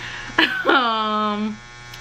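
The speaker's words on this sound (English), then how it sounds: "Like, that's my dryer, so sorry." A clothes dryer gives a short electric buzzing hum, close and steady for under a second, over faint background noise.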